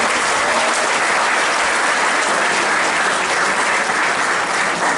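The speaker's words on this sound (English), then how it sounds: "So, big round of applause for yourself." Dense, sustained applause from a large audience at a university colloquium on transgender rights, loud and continuous without a break.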